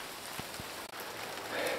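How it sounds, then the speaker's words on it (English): Steady rain drumming on a greenhouse roof, a dense even patter with a few heavier drops, close and continuous throughout. "It's raining pretty good."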